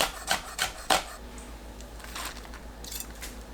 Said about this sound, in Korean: 청양고추 2개, 홍고추 2개 작게 썰어주세요.